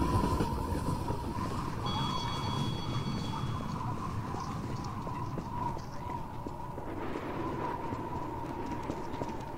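A train rumbles steadily past in the Garry's Mod video game, a loud continuous rolling roar with rhythmic clatter and a sustained tonal hum, alone without voices.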